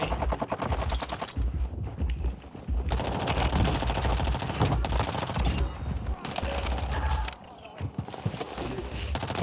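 Sustained automatic MP5 submachine gun fire in a video game rattles in long, loud rapid bursts, with brief pauses and other game sounds mixed in.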